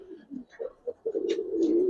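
Giribaz and coloring pigeons on a rooftop coo in a low, throaty run, the bubbling calls building into a steady drawn-out coo near at hand with some faint higher chirps over it.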